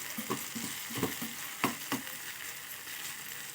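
Salted tomato mixture sizzling in a pan as it is stirred, with a steady bright frying hiss and several soft scraping stir strokes spaced unevenly over it.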